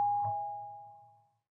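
A single electronic doorbell chime in a horror video game, one clear ding that rings out and fades away over about a second and a half.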